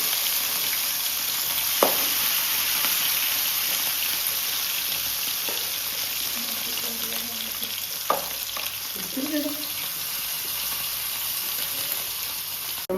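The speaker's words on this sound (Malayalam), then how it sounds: "അതവിടെ ചൂടാകുമ്പോഴത്തേനേ നമ്മുടെ ചെമ്മീനെ നമുക്ക് ഫ്രൈ ചെയ്തെടുക്കാം" Prawns fry in a hot pan in a home kitchen, a steady close sizzle with occasional soft knocks of stirring.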